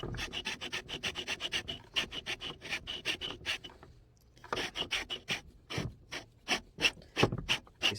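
A handheld cue tip tool squares the leather tip on a pool cue shaft during a Kamui SS tip install, giving repeated quick rasping rubs in steady bursts, close and alone, with a brief pause midway.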